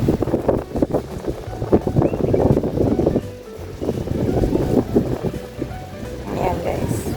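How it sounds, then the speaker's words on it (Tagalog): Strong wind buffets the microphone on a hilltop overlooking the island of Discovery Bay, a loud continuous low rumble with gusty surges that dip briefly near the middle. "Naririnig niyo na siguro yung hangin. Malakas pa yung hangin."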